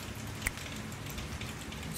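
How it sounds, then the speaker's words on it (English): Raindrops falling on leaves, heard as a steady, soft patter of rain with one brief louder drop near the start, continuous and fairly faint with no voices. "Feel how these raindrops slide down your arms, weaving their way around your muscles until they slide down over your wrists"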